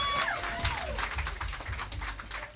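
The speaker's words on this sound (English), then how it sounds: "let's hear it for Ellen. Round of applause." Applause from a small house-concert audience, a dense patter of clapping hands filling the room for a couple of seconds, with a few brief voices in the mix.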